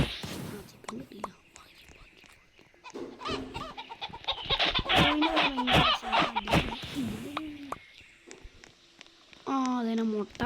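Clucking chicken sounds from the Roblox game Mr Bean Island, rising in a busy stretch midway and again as a short patterned burst at the end, mixed with a soft voice and other game noises.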